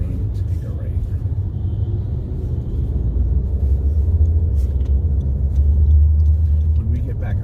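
A 2020 Honda CR-V driving on a road, heard from inside as a steady low engine and tire rumble that grows slightly louder midway, with someone talking over it.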